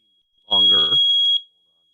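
Smoke alarm sounding during a timber bridge lecture, a single sustained high piercing beep about a second long, with a voice talking over it.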